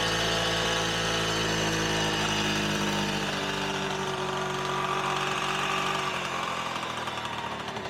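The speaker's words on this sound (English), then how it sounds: "it actually sounds fine, that engine" A small engine with a decompression lever runs steadily and loud throughout, a busy, buzzing mechanical drone with no talk.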